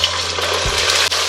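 Zucchini noodles, still wet, sizzle in a low layer of hot oil in a tall-sided pan, a steady loud hiss with bursts of steaming and spattering throughout.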